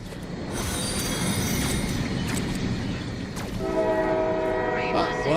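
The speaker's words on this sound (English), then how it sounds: "Thank you for the train horn." A train horn sounds in the EverRail video game, with harmonic horn tones entering after about three and a half seconds over a steady bed of in-game rail rumble and ambience.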